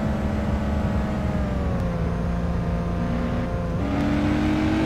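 Car engine accelerating during a street race in My Summer Car, a loud continuous droning whine that holds steady and climbs in pitch toward the end, with no talk.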